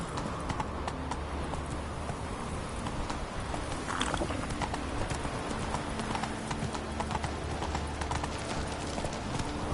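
Horse hooves clip-clop in a steady, continuous rhythm throughout, fairly close, over a noisy outdoor background.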